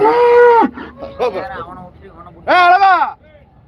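Cattle low loudly and close by at a livestock market in Erode, with two long, drawn-out moos separated by a brief pause and some faint background voices.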